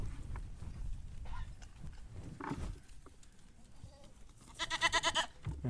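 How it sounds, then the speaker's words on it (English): Spoiled pet goats bleat at a farm, a few quiet calls scattered through the stretch, the last one louder and wavering, with faint rustling and background noise around them. "Oh, you bunch of spoiled little goats."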